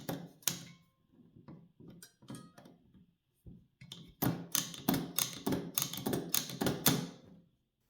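A 1920 ROFA typewriter with an ink cartridge being worked by hand: sparse mechanical clicks and taps at first, then a quick run of sharp, close keystrikes clacking in a steady rhythm before it stops.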